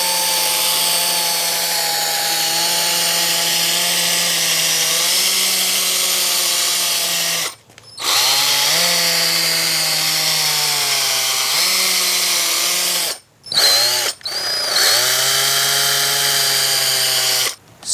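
A power sander running 500 grit sandpaper over a motorcycle headlight gives a loud, steady motor whine with shifting pitch, cut by several brief pauses where the tool stops and restarts.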